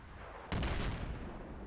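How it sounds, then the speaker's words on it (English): In Battlefield 3, a TV-guided missile strikes a tank from the front, giving a single sharp explosive blast that decays into a rumbling tail, loud against a low background hiss. "So let's take a front TV missile and see what happens."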